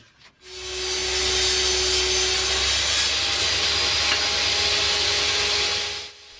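A power saw rips strips from a wooden board with the blade tilted to 15 degrees, a loud continuous whining cut that holds steady for about five seconds from start to finish, close up and without talk.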